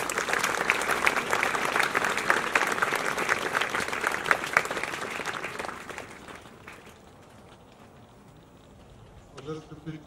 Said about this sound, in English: Another huge round of applause for our award winner.